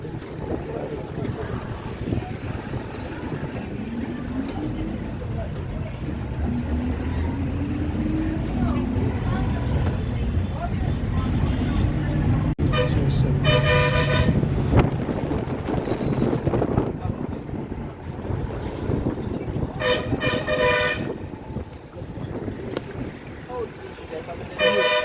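A Rajasthan Roadways bus heading from Jaisalmer toward Jodhpur rumbles along with steady road and wind noise, its horn blaring in several loud repeated honks in the second half.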